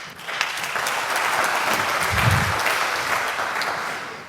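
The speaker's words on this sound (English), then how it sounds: "a big applause for Robin Jansen" A lightning-talk audience at the WHY 2025 event claps for the next speaker, a sustained wash of many hands that swells slightly in the middle and then eases, close and fairly loud.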